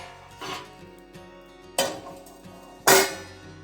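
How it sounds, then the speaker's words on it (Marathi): Metal lid set down over garlic bread on a hot tawa griddle, giving a few sharp clanks and clatters, the last one loudest, over a faint steady background. "गार्लिक ब्रेड ठेवूया आणि आता त्यावर झाकण ठेवूया"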